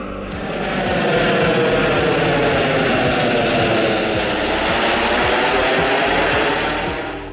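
The M02J, a small turbojet-powered glider with about 80 kg of thrust, flies past and produces a loud, steady jet roar. The roar swells in and fades slightly over several seconds, with no voices.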